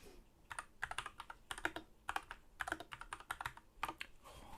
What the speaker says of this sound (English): I do love this keyboard, even though I can't spell.